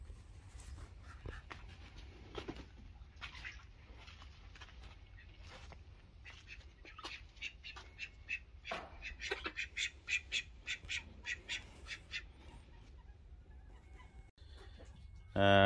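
Call ducks quack in a rapid series of short, raspy calls, close and fairly loud, over a quiet background with some handling noise.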